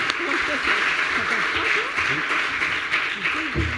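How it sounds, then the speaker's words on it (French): Audience applause closing a conference on blockchain and unemployment, a steady, dense wash of many hands clapping that holds evenly through the whole stretch, with a few voices mixed beneath it. "Je crois qu'on peut les applaudir"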